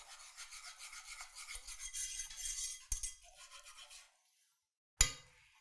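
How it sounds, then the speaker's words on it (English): A whisk stirs butter and salt into caramel sauce in a hot pan, making a quiet, close scraping rub that fades out, followed by one short clink. "And we're going to whisk that all together."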